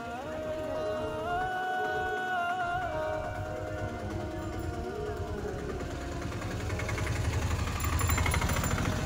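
A motorbike engine runs continuously while the bike is shifted, a close, steady rumbling drone that swells slightly louder toward the end.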